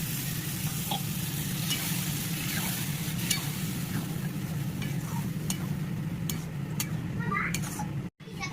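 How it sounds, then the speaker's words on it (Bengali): Tarka dal with spices and rice bubbling and sizzling steadily in a pan, a continuous close simmer with occasional light clinks, briefly cut off near the end. "তরকাটা ফুটে গেছে"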